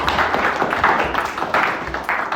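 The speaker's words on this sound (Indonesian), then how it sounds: "Oke, tepuk tangan." A classroom group claps at an agribusiness cooking presentation, a short stretch of uneven hand clapping from a small gathering, close and moderately loud, with no talking over it.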